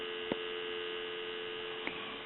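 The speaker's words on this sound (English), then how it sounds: "Give you some dial tone." Steady telephone dial tone from an old rotary phone under repair on a donut-circle telephone line, a continuous hum-like tone with two faint clicks.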